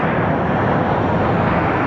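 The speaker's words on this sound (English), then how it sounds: "our Newark plane is lining up on runway 25" A passenger jet lining up on runway 25 at Phoenix Sky Harbor Airport produces a steady, loud, broadband engine roar that holds unbroken for two seconds with no talking.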